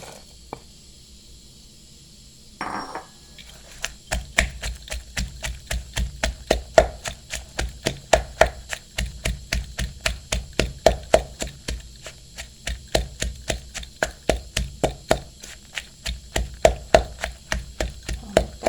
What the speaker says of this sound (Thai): เอาละค่ะตำพริกก่อนค่ะ